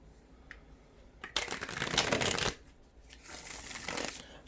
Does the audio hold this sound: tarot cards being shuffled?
yes